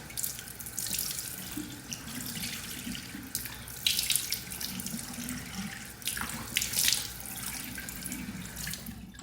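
Tap water runs steadily into a sink while a skincare mask is rinsed off a face, a continuous close splashing stream with brief louder surges of water hitting skin and hands.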